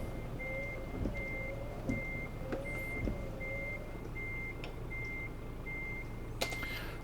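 Truck reversing beeps in Euro Truck Simulator 2, a steady series of evenly spaced electronic beeps sounding about twice a second over a low engine rumble, with a few faint clicks and a brief hiss near the end.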